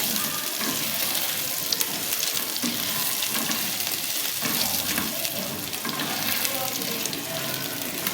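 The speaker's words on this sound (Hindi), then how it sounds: "और हरी मिर्च, इसे ज़रा अच्छा सा मैं थोड़ा सा भूनूंगी ताकि अदरक का कच्चापन ख़त्म हो जाए" Ginger, dried red chilies and green chilies fry in a pan with a steady, dense sizzle that continues without a break, plus a few faint stirring scrapes, and no one speaks.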